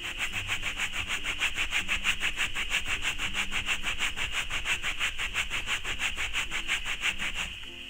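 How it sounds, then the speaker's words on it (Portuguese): A stain on a mattress scrubbed hard by hand with a brush, producing fast, evenly spaced rasping strokes, loud and close, in a steady rhythm that stops just before the end. "Agora a gente vai esfregar."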